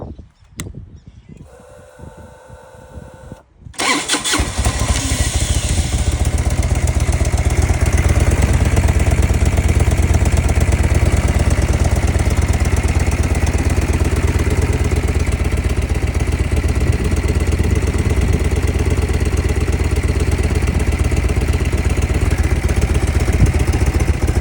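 Harley Evo bagger motorcycle on a test ride: after a few quiet seconds of handling noise, the engine fires up into a loud, continuous rumble with wind roar that holds steady to the end.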